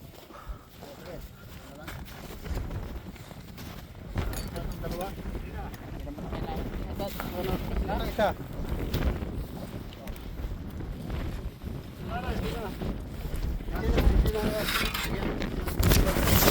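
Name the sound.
strong wind blowing on the ice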